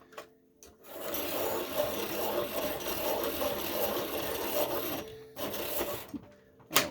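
A colored pencil, an oil-based Caran d'Ache Luminance or Faber-Castell Polychromos, is ground in a sharpener with a steady, close rasping scrape lasting several seconds, then a brief pause and a short final burst.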